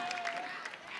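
A crowd claps steadily through a short burst of applause at a grand-final talent event, the sound broadband and even with no talk over it.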